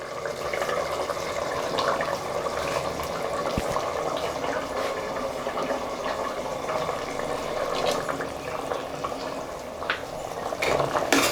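Ground coconut paste pours into a pot of boiling mutton kurma, with a steady bubbling, sloshing liquid texture and faint clinks of a pot throughout.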